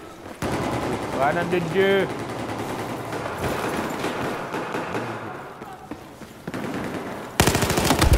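Rapid machine gun fire rattles in Battlefield 4, bursts of automatic shots close and loud, with a player's voice talking and exclaiming over the gunfire.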